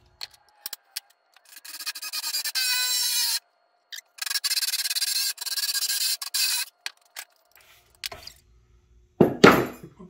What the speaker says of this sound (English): Forstner bit because the pipe is 1 1/4, so this is just the next size up.